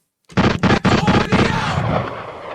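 A gunshot sound effect: a quick run of loud, sharp blasts, about five or six in rapid succession, trailing into a sustained rumbling decay with no voices over it.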